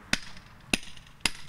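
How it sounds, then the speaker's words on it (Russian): A sculptor's hammer strikes marble three times in an even, unhurried rhythm. Each blow lands as a sharp, bright clack with a short ring, and quiet gaps fall between the strikes. "скульптор Валентина Ракишева пользуется поистине мужскими инструментами – молоток, резак, шлифовальная машина"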